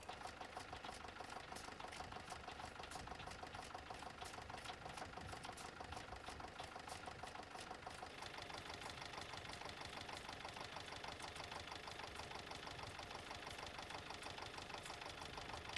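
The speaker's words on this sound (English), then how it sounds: "This Petter AVA2 engine, built by Petters of Yeovil. These engines were of the much later diesel type" A Petter AVA2 diesel engine built by Petters of Yeovil, a classic industrial engine, runs steadily with a fast, even mechanical knocking beat, faint and continuous throughout with no talk.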